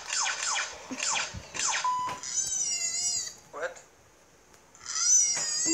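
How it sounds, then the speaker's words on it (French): Cat meowing in several drawn-out, wavering cries, with people talking and reacting in between, fairly close. "C'est un chat?"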